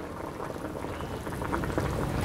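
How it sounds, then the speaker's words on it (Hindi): Boiled rasgulla in hot syrup being poured from the pot into an open jar, a steady liquid gush and splashing that grows slightly louder, with no voices. "और इसको हम उंडेल लेते हैं एक ओपन जार में"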